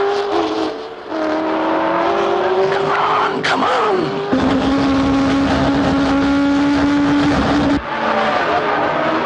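Racing car engines roaring during a motor race, a loud, close engine note rising and holding in pitch as cars pass, with a sharp tonal shift midway and brief tyre scrabble; a voice speaks briefly over the noise.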